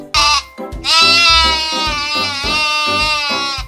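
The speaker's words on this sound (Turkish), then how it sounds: "bu hayvanın adı keçi. Keçi be be diye ses çıkarır" A goat bleats loudly and close by, with one short cry followed by a long, wavering call, heard on its own.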